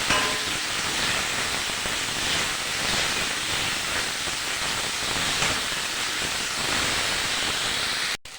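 Masala with tomato and salt sizzles in a pan for egg curry, a continuous loud hissing fry that holds steady before cutting off abruptly at the end.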